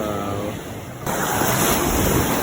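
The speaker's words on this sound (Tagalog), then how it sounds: "mahina yung wave" Ocean waves wash onto the shore at Aurora, a steady close surf roar with wind on the microphone that swells louder midway through a couple of seconds.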